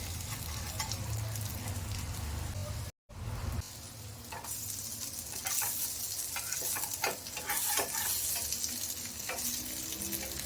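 Aval vadai, flattened-rice fritters with gram flour and onion, cooking on a pan while being flipped, a steady dense sizzle with a brief silent gap near the start and crisp scraping turns of the spatula afterward.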